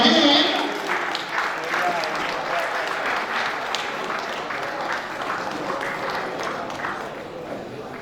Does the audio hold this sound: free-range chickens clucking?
no